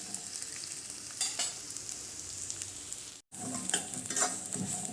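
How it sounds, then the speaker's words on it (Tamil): Poppy seeds roast in a little oil in a pan, a steady close sizzle with occasional stirring scrapes, briefly interrupted once, no voices. "நல்லா இது லைட்டாக கொஞ்சம் ஆயில் சேர்த்து ரோஸ்ட் பண்ணிக்கோங்க."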